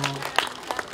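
Light audience applause at a Korean charity variety performance by a women's arts troupe, a brief patter of scattered claps heard fairly faintly under background noise.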